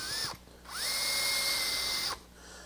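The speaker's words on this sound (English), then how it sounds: "I'm just gonna drill a tiny bit." A small power drill boring a tiny 1/16 inch hole for a contemporary wooden clock, two close, steady high whines with a brief pause between them, revving up and winding down.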